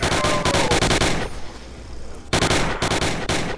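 A Thompson submachine gun fires in the Roblox game Resurrection, loud rapid bursts of close automatic shots with a short pause in the middle before the rattling bursts resume.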